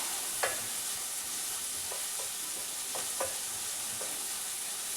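Onions and turmeric frying in a pan for prawn curry, a soft continuous sizzle broken by a few light spatula scrapes and taps.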